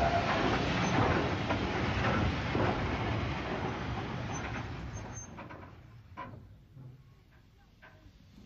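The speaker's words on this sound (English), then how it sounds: "A push-pull train arrives at the high-level station" A steam push-pull train arrives at the high-level station on a line from Three Bridges to Tunbridge Wells, with a rumbling, clattering roll that gradually fades, ending in a few faint knocks and clanks.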